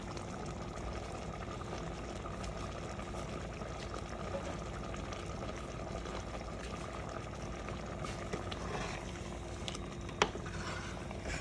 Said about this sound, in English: I'm adding this hot water to the mix.